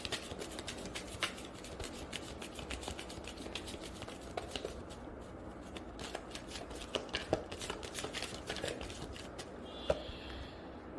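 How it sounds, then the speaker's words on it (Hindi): Tarot cards are shuffled and drawn in a steady run of soft papery riffles, slaps and rubs for about eleven seconds, close and fairly quiet with no talking. "I will just take out some more cards for you."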